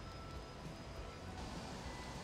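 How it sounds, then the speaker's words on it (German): Airplanes rumble at an airport in the Airport CEO management game, a continuous broad roar of aircraft engines with a faint steady whine, moderately loud and unbroken. "die Flugzeuge sind so heavy laut"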